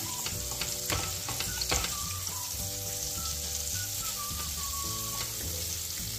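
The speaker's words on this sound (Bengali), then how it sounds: "মাখনটাকে আগে গলিয়ে নেব ভালো করে। তাওয়াটা গরম ছিল, ফলে মাখনটা গলতে বেশি সময় নিচ্ছে না।" Butter melting on a hot griddle gives a steady, close, continuous sizzle and crackle with a few faint clicks of stirring.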